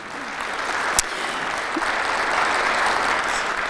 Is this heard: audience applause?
yes